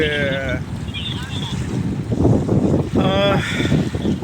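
Strong wind blows by the sea in Kuwait, buffeting the microphone with a constant loud roar while people talk over it.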